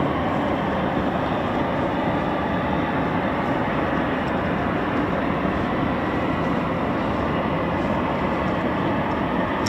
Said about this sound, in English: So Typhoon's just you can hear spooling